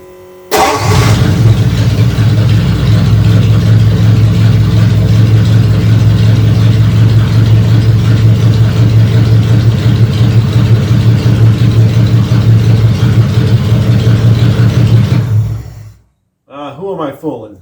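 A 1938 Ford car with a newly replaced starter cranks, catches and settles into a steady, loud running engine note that continues for about fifteen seconds before cutting off, followed by a brief voice.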